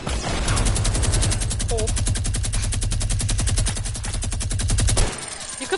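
Rapid automatic gunfire in the Fortnite video game rattles in a fast, unbroken burst for about five seconds, loud and close, then stops abruptly, with a brief exclamation from a player.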